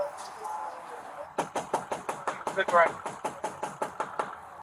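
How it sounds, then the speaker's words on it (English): Someone knocks on a door in a long, steady series of loud, evenly spaced raps, about a dozen in a row close by, preceded by a low murmur of background sound. "I'm just knocking on your door."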